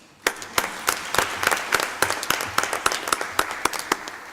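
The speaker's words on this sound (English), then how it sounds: "please give a big applause to our amazing panelists" Conference audience applauding panelists at a UNCTAD session on finance for digital entrepreneurs in Africa: a thin, sparse patter of individual claps at a steady pace, as from only a few hands, with no talk.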